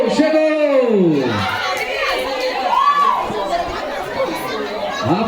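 Supporters shouting and cheering as runner Ingrid arrives at a 5K/10K street race in Bom Conselho, a lively crowd roar with whoops and chatter, fairly close and continuous.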